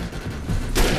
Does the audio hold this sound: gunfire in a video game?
yes